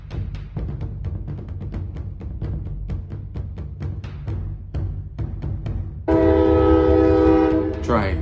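A train passing in West Virginia, its wheels clacking in a rapid steady rhythm before a loud, sustained horn blast sounds close by near the end, with a voice briefly audible.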